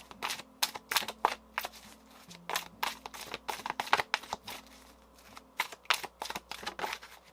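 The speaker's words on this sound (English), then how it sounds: "I've been shuffling that deck" A tarot card deck being shuffled: rapid, close, crisp riffling and slapping bursts in an uneven rhythm, with no talking.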